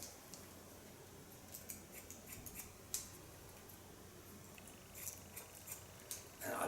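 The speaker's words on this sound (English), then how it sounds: "And I love the sound of this scissor." Scissors snip a man's hair in a series of faint, irregular crisp clicks and small cuts against a quiet background hiss, with no talking.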